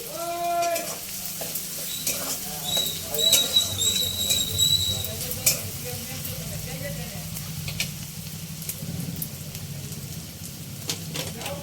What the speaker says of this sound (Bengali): পেঁয়াজটা ভালো করে লাল করে ভেজে নিতে হবে